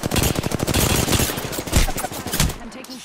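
Rapid automatic gunfire in Apex Legends, a dense burst of sharp repeated shots in quick rhythm that lasts nearly the whole moment and is loud and close before cutting off near the end.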